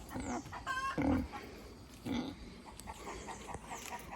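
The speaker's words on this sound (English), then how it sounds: "So that's an indigenous chicken, that dodo bird looking thing." An indigenous chicken on a farm in Panama gives a few short, soft clucking calls spaced over several seconds, faint against a quiet outdoor background.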